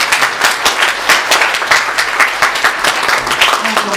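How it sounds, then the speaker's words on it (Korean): A church congregation applauds in welcome during a Sunday service, a loud, dense, steady round of clapping that continues evenly throughout. "여러분께서 박수로 잘 환영해 주시면 감사하겠습니다"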